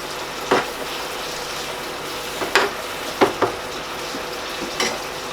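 Minced beef for spaghetti bolognese fries and bubbles in a pan with a steady sizzle, broken by a few sharp scrapes and clinks as it is stirred. The sound is close, with no talking.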